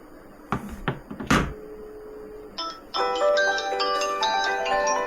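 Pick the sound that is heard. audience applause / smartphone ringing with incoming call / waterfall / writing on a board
smartphone ringing with incoming call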